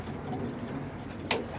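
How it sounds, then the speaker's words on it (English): Pet pigeons in a loft with perches, giving soft low cooing over steady room noise, plus one brief sharper sound near the end. "Take a look at the birds real good, because there's some new ones in here."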